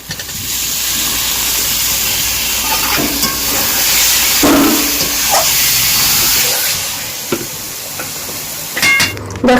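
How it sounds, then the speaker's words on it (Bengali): Spices frying in a pan make a steady hiss and sizzle throughout, with occasional clinks and scraping sounds and a few louder clatters near the end. "এবার মশলাটা দিয়ে দিলাম। এবার মশলাটা কষা হোক।"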